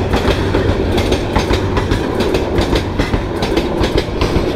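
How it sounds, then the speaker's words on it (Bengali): The Jamalpur Express rolls past close by in a steady, loud rumble with rhythmic clickety-clack from the wheels over the rail joints, running unbroken throughout. "এটা কি জামালপুর এক্সপ্রেস যাচ্ছে।"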